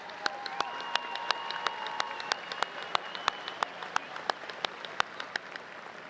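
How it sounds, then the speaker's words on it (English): Graduation commencement audience applauding at a university summer ceremony, a steady wash of clapping with sharp individual claps popping out regularly, plus whistles and cheers rising above the crowd throughout. "please thank these individuals with a rowdy hand of applause"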